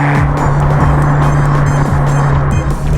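A Fiat Punto GT engine drones loud and close, holding a steady throaty note with brief rising and falling revs throughout.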